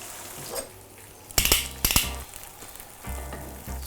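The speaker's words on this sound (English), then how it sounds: "so the tofu's cooking up nicely" Tofu fries in a pan with a steady sizzle, broken by sharp clinks and scrapes of a utensil against the pan; fairly close and alone, with no talking.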